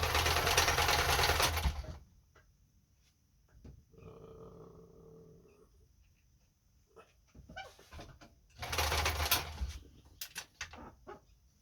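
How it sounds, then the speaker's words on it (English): A Kenmore 10 Stitch sewing machine runs a triple straight stitch in bursts, loud at the start and again near the end, with quieter mechanical whirring between. "the machine's going to move the fabric back and forth and put down 3 stitches side by side."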